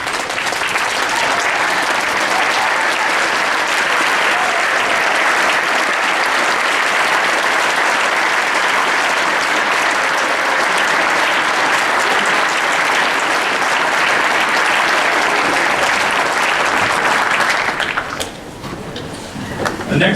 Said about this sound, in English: give them an applause that they deserve